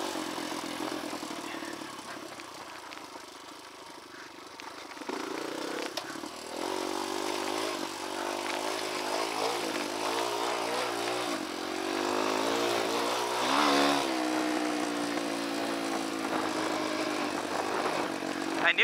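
Dirt bike engine heard up close while riding through Red Rock Canyon, a loud continuous drone whose pitch rises and falls with throttle changes, swelling louder in the second half.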